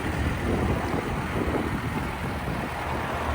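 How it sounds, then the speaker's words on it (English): Wind blusters across the microphone in a steady, loud rush of noise outdoors. "Sure is still windy today, but at least the sun's out."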